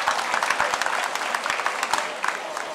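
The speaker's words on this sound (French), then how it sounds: "Je vous demande de l'applaudir très très fort" A crowd at a public ceremony applauds a minister with loud, sustained clapping, dense and close, with a few sharper individual claps standing out.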